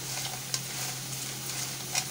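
Round potato pieces fry in hot oil with a steady close sizzle, broken by a couple of brief stirring clinks.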